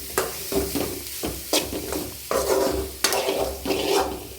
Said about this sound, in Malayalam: അതിലേക്ക് ഇട്ട് കൊടുക്കാം. നല്ല വടക്കി മിക്സ് ചെയ്തെടുക്കാം.